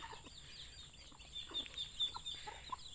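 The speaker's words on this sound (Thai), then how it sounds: "ฟังแต่เสียงเป็ดเสียงไก่" Faint clucking of chickens, with ducks also present, soft and intermittent over a steady background hiss, heard at a distance with no talking.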